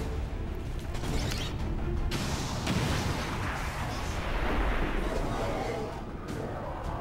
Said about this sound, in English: there's going to be damage from the rocket on both the Archon and the mutant, and there will probably be a secondary explosion from the vehicle.